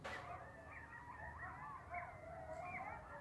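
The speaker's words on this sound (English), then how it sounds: "Coyotes." A pack of coyotes howls and yips in the distance, their wavering cries overlapping faintly and steadily against a quiet outdoor background.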